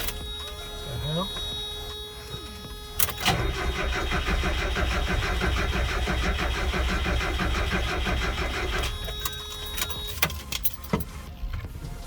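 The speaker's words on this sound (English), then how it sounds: "So it's cranking over, but it's not starting." A 1992 Mazda Miata engine cranks over steadily for several seconds without catching, a rhythmic starter churn heard close in a garage, then it stops.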